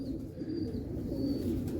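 A Shaarka-type pigeon coos in low, soft, continuous tones throughout, close by, over a steady outdoor background with no talking.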